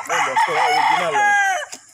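A Boston gamefowl rooster on a game farm gives one loud, close crow lasting under two seconds, rising and then trailing off at the end.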